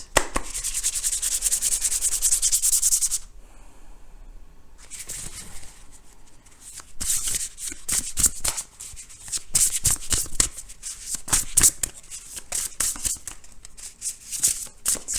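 Tarot cards being shuffled by hand, a dense run of riffling, rubbing card noise that breaks off briefly, then returns in quick slippery bursts, close and fairly loud with no talking.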